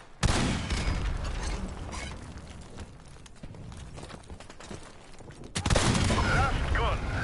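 Dense, loud bursts of rapid gunfire in the video game Modern Warfare, a sustained barrage with a quieter stretch in the middle before another heavy burst.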